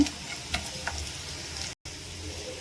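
Ingredients fry in a pan for a leafy-green rice dish, giving a steady close sizzle punctuated by light ticking stirs, with a brief dropout near the end.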